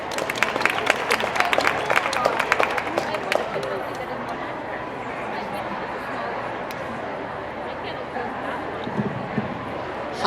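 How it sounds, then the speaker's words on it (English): Audience at a StyleCon keynote claps for a volunteer, with a burst of loud clapping in the first few seconds that gives way to murmuring crowd noise and scattered voices. "give her a round of applause."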